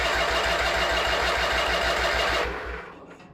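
A vintage Craftsman tractor engine cranking without catching, a fast rhythmic chugging that runs steadily for over two seconds and then cuts off, heard close and loud.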